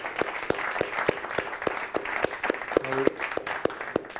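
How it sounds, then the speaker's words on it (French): An audience at an awards ceremony applauds a trophy winner with sparse, distinct hand claps in an irregular rhythm, with a brief voice heard partway through. "Et puis on peut encore vous applaudir donc, pour ce trophée Gestion des talents."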